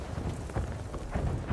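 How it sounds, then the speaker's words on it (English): Missiles rain down and explode across a Battlefield 5 video game battlefield, heard as a continuous rumbling barrage of muffled booms with low thundering swells, no talking over it. "Why is the sky raining missiles?"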